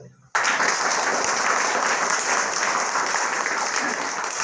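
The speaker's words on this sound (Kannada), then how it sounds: "ಆ ಶಿಕ್ಷಕರಿಗೆ ಒಂದು ಜೋರಾದ ಚಪ್ಪಾಳೆ ಅಂತ" Loud, dense applause for teachers at a government primary school event in Kerasamangala village, starting abruptly after a brief quiet moment and continuing steadily throughout.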